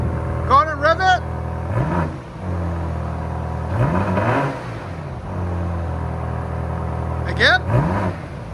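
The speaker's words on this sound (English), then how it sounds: "Go on and rev it." A 2023 BMW XM 4.4-litre twin-turbo V8 with an X-pipe and Borla ATAK exhaust revs twice in short, rising bursts over a steady idle rumble. Voices talk at the start and end.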